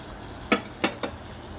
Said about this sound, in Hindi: दही और कीमे को मिक्स करते हैं।